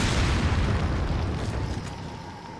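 A rocket launcher round explodes in the video game Resident Evil 4, a loud, deep boom that rumbles and slowly fades over a couple of seconds, with no one talking.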